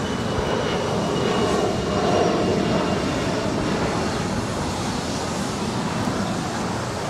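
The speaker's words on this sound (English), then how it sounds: "It's Air Canada flight 785 coming in from Toronto. It's an A320." Air Canada A320 airliner landing at LAX, a steady broad engine roar holding at a constant level throughout, with no pause and no voices.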